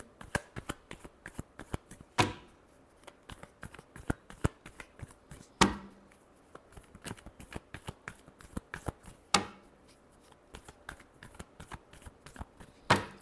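Tarot cards being shuffled by hand, a steady run of quick crisp riffling taps broken by three louder sharp slaps, close and alone with no talk.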